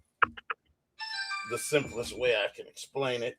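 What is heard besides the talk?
mobile phone ringtone ringing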